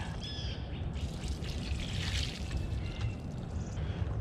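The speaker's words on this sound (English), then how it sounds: "Next step is I'm going to pour a little bit of water." Rainwater pours into a homemade compost bin of shredded cardboard and newspaper in a raised garden bed, a steady close trickle and splash running throughout with no talk.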